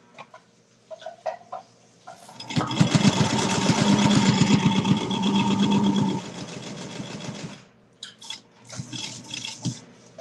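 Sewing machine stitching fabric all around the edge of a textile piece, running in a loud steady burst of rapid needle clatter for several seconds, with quieter handling clicks and shuffles before and after.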